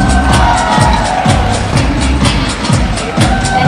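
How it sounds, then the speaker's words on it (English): Crowd applause and cheering for winners at the Miss/Mrs/Teen India USA 2022 pageant fill a hall, loud and sustained throughout with no pause. "One more round of applause."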